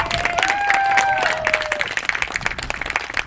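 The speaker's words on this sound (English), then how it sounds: "Can we please give a round of applause to Michelle Bushnell?" A crowd at an outdoor groundbreaking ceremony for a water system rebuild applauds Supervisor Michelle Bushnell, with a short whoop over brief, moderately loud clapping that tapers off.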